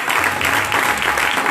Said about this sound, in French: Veuillez acclamer sa vie